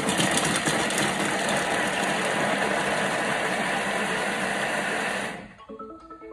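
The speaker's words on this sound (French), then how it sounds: "Et on va mixer 5 secondes, vitesse 5. Oignon, ail et persil, 5 secondes." A Thermomix blends onion, garlic and parsley at speed 5, a loud steady motorised whir lasting about five seconds before cutting off abruptly, followed by faint clicks and a short electronic beep.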